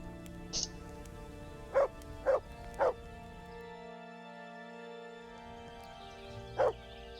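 Dog barking in short sharp bursts, three quick barks in a row then one more after a pause, fairly close, over a steady background hum with a brief high cry early on.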